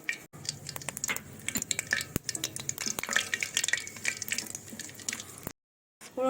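Dry red chillies, bay leaf and whole garam masala (mace, cardamom, peppercorns, cloves) frying in hot oil, a continuous crackling sizzle with sharp pops and occasional utensil clinks, stopping abruptly near the end.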